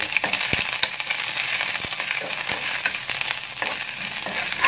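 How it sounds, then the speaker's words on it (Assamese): Crushed ginger and garlic fry in a hot pan with dried red chilli, giving a steady, close sizzle with a few sharp stirring knocks and scrapes over about five seconds, no voices. "আদা নহৰু কেঁচা ভাপটো যোৱালৈকে ভাজিম মই।"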